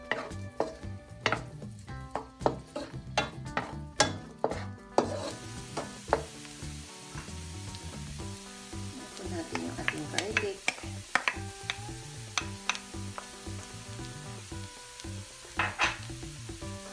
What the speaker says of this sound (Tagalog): Saute na po natin yung onion.